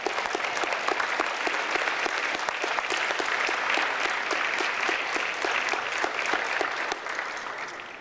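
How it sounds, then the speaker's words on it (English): An audience at a high school awards ceremony claps in dense, sustained applause, which fades slightly near the end. "all of you all give yourselves a round of applause"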